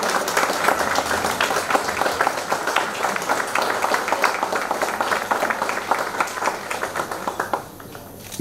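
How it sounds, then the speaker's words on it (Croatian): Wedding guests clap in sustained applause for the best man and maid of honour at a Bosnian wedding reception, a steady dense patter that fades out near the end. "Ajmo može jedan aplauz za Mirzu i Indiru"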